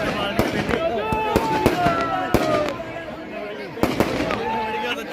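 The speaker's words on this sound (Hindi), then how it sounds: "चिंगारी लागी कोई पटाखा" Firecrackers crackle and pop in a rapid irregular series of sharp bangs, with people talking throughout, at a Dussehra fair in Kekri where a Ravana effigy is burned.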